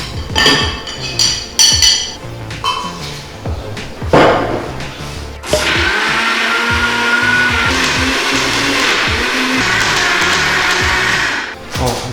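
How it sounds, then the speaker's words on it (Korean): Utensils clink and a few thumps sound, then a blender starts up and grinds red bean ice bars loudly and steadily, whirring without a break until it cuts off. "이 믹서 기에 갈아서"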